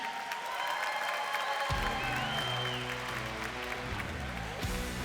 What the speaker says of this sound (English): One more round of applause for Cassidy Shear.